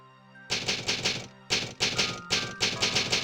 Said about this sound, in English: That's very loud typing